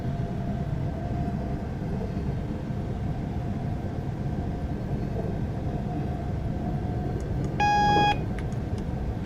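Speed limit warning beep in a Class 450 train cab in Train Simulator 2017, a short, bright electronic tone near the end over a steady rumble of the running train, with no voices.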